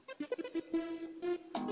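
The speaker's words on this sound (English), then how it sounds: "And guys, this is how my saw synth sounds like." A saw synth patch built in Caustic 3 for an amapiano track plays a short buzzy melodic phrase of several distinct notes, bright and close, ending in a brighter burst.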